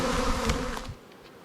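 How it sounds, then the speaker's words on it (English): Honey bees buzz in a dense, steady drone close by from a full honey super on a hive, fading somewhat toward the end. "I have a lot of bees up here in this honey super."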